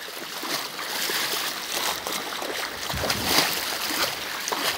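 The flooded Ribeirão Santo Antônio do Bonito in Coromandel, Minas Gerais, overflowing its banks and covering a road, rushes with a continuous broad roar of turbulent water and occasional splashes, steady and close throughout.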